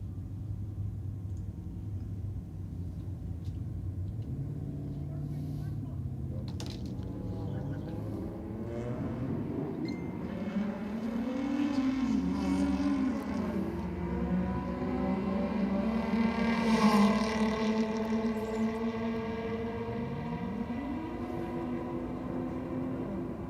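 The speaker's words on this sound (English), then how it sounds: "Big burnout from the Corolla." Toyota Corolla doing a big burnout at Sydney Dragway, its engine holding a loud sustained roar that climbs in pitch and swells in the middle, with a deep rumble throughout and a commentator talking over it.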